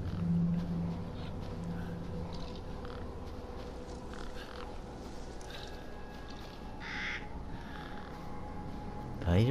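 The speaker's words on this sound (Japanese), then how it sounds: "あー、カラスいた" Crow caws ring out in the horror game Resident Evil Village, a few scattered calls over a low droning ambience, moderately distant.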